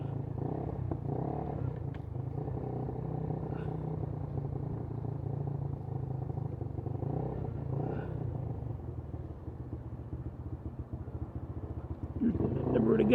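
A motorcycle rides through a rough, off-road-like alley in Los Angeles, its engine a steady low rumble. The rumble swells slightly louder at the very end.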